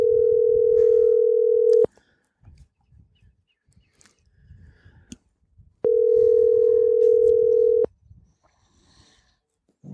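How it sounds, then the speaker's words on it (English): A telephone ringback tone sounds while a phone call is placed: two long steady tones, each about two seconds, separated by a quiet gap with faint background noise. "We're going to just call the alibi right now and ask him."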